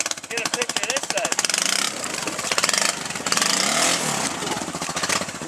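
A 454cc Arctic Cat ATV engine stuck in mud, revving hard and steadily with a rough, pulsing rattle throughout, while people talk over it.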